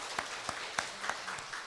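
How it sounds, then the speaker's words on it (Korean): A church congregation claps together during an Easter worship service, the applause fairly light and scattered with a few sharper peaks, lasting under two seconds. "우리 박수하겠습니다."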